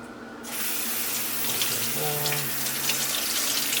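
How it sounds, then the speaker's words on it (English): Running tap water starts abruptly and flows steadily as cactus leaves (nopales) are rinsed under it at a kitchen sink, close and continuous, with brief faint clinks over the stream. "I'm gonna wash them a little bit actually."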